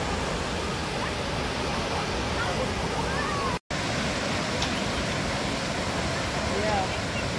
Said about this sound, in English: This is the first waterfall that we're viewing.